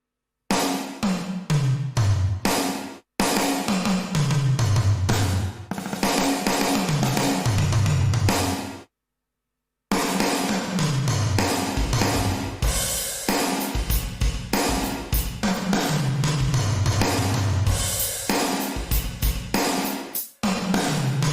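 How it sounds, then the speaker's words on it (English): A loud Yamaha DTX6 electronic drum kit plays a punchy pattern, each hit trailed by a short, abruptly cut gated reverb tail, with one brief pause midway. "I can add my own real gated reverb."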